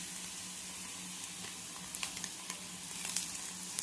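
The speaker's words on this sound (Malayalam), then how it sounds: "മസാലക്കറിക്ക് കടുക് വറുത്ത് കൊടുക്കാം" Mustard seeds, onion and curry leaves frying in a couple of spoons of oil, a steady close sizzle with scattered sharp pops and crackles that grow busier toward the end; no talking.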